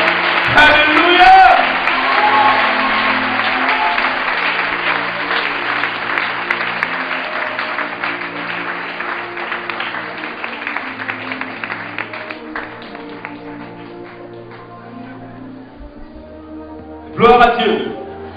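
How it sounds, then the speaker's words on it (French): Congregation applauding and cheering as the pastor arrives at a Christian gathering, sustained clapping and crowd acclaim throughout with a voice speaking over it, easing off before a brief final swell. "On acclame le Seigneur pendant qu'il arrive."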